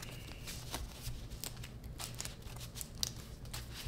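Star Wars Unlimited cards are shuffled by hand, giving quiet, crisp riffling bursts that repeat in an irregular rhythm, faint and close with no talking.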